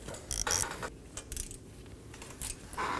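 A ratchet clicks in short bursts while loosening a 10mm bolt on the front ABS wheel speed sensor of a Nissan Maxima, sharp metallic ratcheting separated by brief pauses, close and clear.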